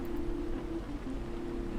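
Steady rain falling outdoors, a constant soft hiss of drops on surfaces with a low hum running underneath, even and continuous with no voices.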